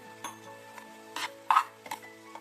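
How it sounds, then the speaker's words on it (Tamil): A spoon scrapes and stirs through thick rava upma in a pan, in a few separate strokes with faint sizzling between them. "அப்போ ரவை வேகும் கரெக்டாக பாருங்கள் உதிரியா கிளறிடலாம்"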